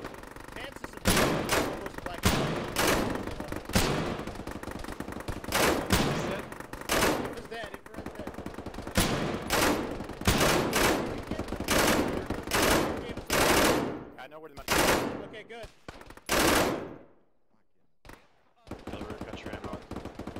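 Rapid bursts of automatic gunfire and single shots from the video game Arma during a ShackTac mission, loud and close, coming in repeated volleys with short pauses, some voices mixed in, and a brief lull near the end.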